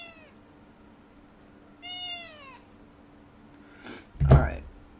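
A cat gives two plaintive meows, a short one then a longer drawn-out one, followed by a soft breathy snort nearby.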